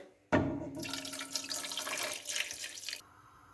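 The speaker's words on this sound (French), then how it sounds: "nous la recouvrons d'eau et nous portons à ébullition" Tap water gushes into a pot over pieces of veal for blanching, a steady loud splashing pour that starts abruptly and runs about two and a half seconds before cutting off, with no talk.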